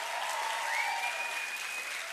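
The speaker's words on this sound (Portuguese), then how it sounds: "palmas para os voluntários da Ponte aqui" Steady applause from a church audience clapping for volunteers, continuous and fairly even throughout, with a faint crowd murmur beneath.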